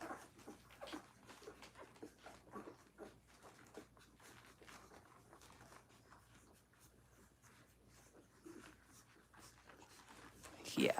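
A mother dog tends her young puppies up close, with quiet whimpers, snuffling and licking sounds under soft, low conversation.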